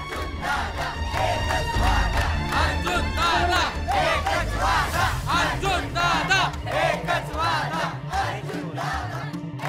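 A large crowd of villagers shouts and clamours together, many voices raised in loud overlapping cries that swell and pulse continuously, close and dense.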